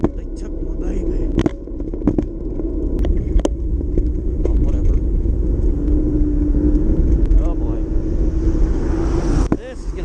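Traffic rumbles and drones continuously along a city street in Ladd's Addition as cars roll by near a walking person, with wind buffeting the microphone and a few sharp clicks scattered through.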